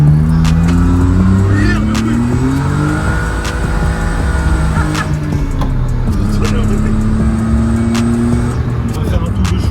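A car for drift training revs its engine on a warm-up lap, the engine note climbing and falling in loud repeated sweeps. Tires chirp now and then, and voices speak close by over the engine.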